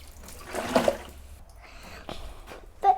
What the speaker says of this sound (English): And then lastly, you need to water them.